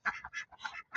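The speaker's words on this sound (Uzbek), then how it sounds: "O'rdaklar." A small group of ducks quacks close by in rapid, repeated bursts, about five or six calls in a second, with no voices over them.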